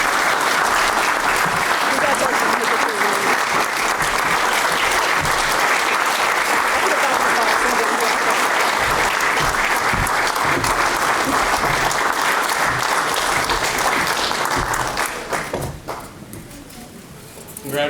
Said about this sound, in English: please join me in giving another round of applause for Teresa Hensley-Green